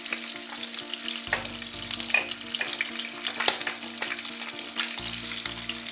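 Tilapia fillets frying in hot oil in a Bangladeshi kitchen, giving a steady close sizzle with scattered crackles and pops that runs throughout, with a few low clunks in the pan.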